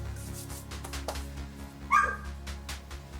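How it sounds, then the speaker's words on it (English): A puppy gives one short, high yip in a kitchen, fairly close and brief, over a steady low hum with soft scraping around it. "Puppy's barking."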